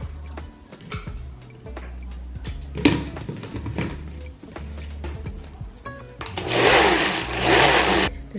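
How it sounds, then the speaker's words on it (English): A countertop blender whirs loudly through strawberries for a strawberry puree, a dense burst near the end after several short clicks and taps of setup on the counter. "This is an honest review of this blender."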